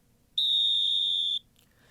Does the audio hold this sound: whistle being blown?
yes